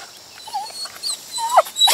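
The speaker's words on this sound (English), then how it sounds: "Would you stop jumping on me? Where do you belong, dog?" A dog whimpers and pants in short, close bursts, soft squeaky whines rising toward the end, with no talk over it.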